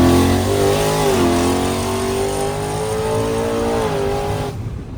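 A twin-turbocharged Ford F-150 engine holds a loud, sustained rev near the limiter, its pitch climbing and wavering over several seconds before cutting off abruptly at the end.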